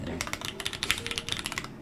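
Rapid typing on a custom mechanical keyboard with Cherry brown non-clicky switches, a dense run of close, crisp key clacks with faint speech underneath.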